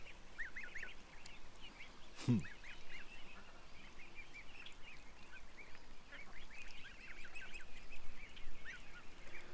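A flock of ducks quacks and chatters softly at a distance, a steady murmur of calls with one brief low thump partway through.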